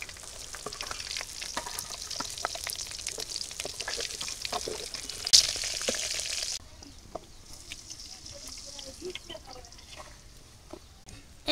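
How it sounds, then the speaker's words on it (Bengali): Tomato and potato frying in the same hot oil left from frying fish for a Bengali village dish, a continuous close sizzle with crackling bursts that grows quieter and thinner partway through, with no voices. "এই তেলের মধ্যেই আমি টমেটো আর আলু দিয়ে দিলাম।"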